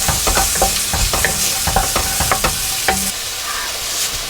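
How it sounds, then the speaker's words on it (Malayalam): Onions sautéing in a hot pan after cumin seeds go into the oil, a loud close sizzle broken by quick clattering strokes of a spatula stirring, with no voices. "സവാള ഇതിനൊന്ന് നന്നായിട്ട് വഴറ്റിയെടുക്കാം"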